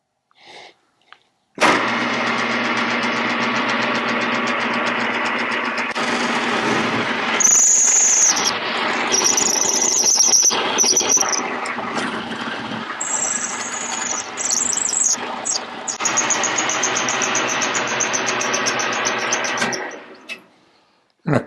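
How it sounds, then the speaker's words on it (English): A milling machine cutting one side of a metal motorcycle part for a 1974 Harley-Davidson XLCH, a steady loud whine and grinding drone that carries on for most of the clip, with sharp high squeals from the cutter partway through. "we're just going to mill this one side over here"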